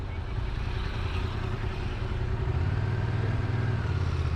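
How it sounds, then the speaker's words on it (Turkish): Motorcycle on a licence exam course runs at a steady mid-pitched engine drone, close and continuous, rising slightly near the end. "8'de debriyajı çek. Bırak motor kendi momentumuyla gitsin."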